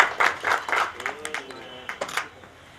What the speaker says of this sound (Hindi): तो मैं एक बार जोरदार जबरदस्त तालियां चाहूंगा शीला मैडम के लिए